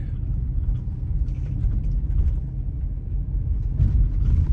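A car driving home after dark, heard from inside the cabin as a steady low road rumble with faint soft knocks and rattles, no voices present.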